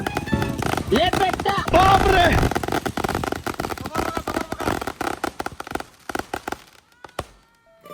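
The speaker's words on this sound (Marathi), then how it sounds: "ते 240 शॉट 10 सेकंदात कसे फुटले ते बघा" A 240-shot firework cake fires a rapid barrage of bursts that crackle and pop in quick succession, loud at first and thinning out toward the end, with voices faintly underneath.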